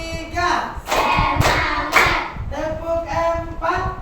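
A group claps hands in counted sets during a chant, with sharp clusters of claps landing in short bursts between voices that sing and call out over the top.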